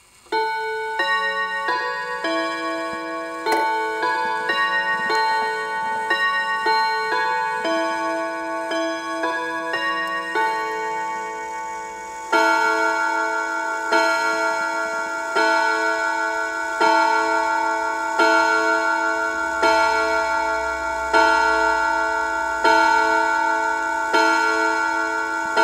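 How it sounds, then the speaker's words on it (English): A German Westminster hat clock strikes ten o'clock, ringing a series of clear, bright chime notes followed by evenly spaced resonant hour strikes that ring on and decay, close and alone over a soft ticking. "I'm going to let you hear the 10 o'clock strike"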